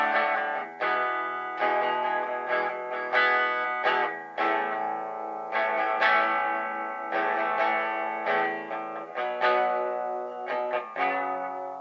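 A Vintage V100 electric guitar on its bridge W90 pickup plays a clean tone, strummed chords ringing out in a steady rhythmic pattern, close and fairly loud with no talking.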